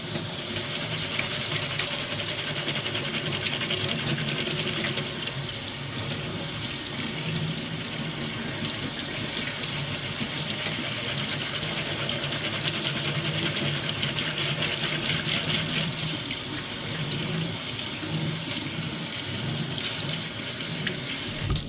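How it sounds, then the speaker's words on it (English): Water runs steadily from a tap into a sink, cool water for rinsing, a constant close splashing rush that carries on without pause throughout. "So now just rinsing."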